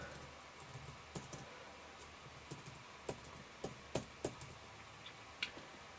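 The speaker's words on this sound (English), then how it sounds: "the keyboard's working as well" Keys tapped on the keyboard of a mid-2007 MacBook laptop: faint, sparse, irregular clicks scattered over a quiet background hiss.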